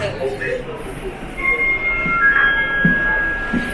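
London Underground train arriving at a station, a rumbling approach with brief high-pitched wheel squeal from the platform, with people talking over it.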